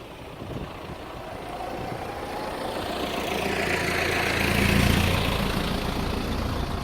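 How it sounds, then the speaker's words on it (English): A tractor mowing grass along a creek side reverses, its engine droning steadily and swelling louder as it draws nearer, then easing slightly, with no talk. "He's mowing the grass down the creek side. Yeah, it's a tractor driving backwards."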